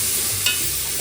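Tomatoes and coriander being stirred into peas rice in a pan, a brief close hiss of frying with a quick scraping stir midway, over a second long, without talk.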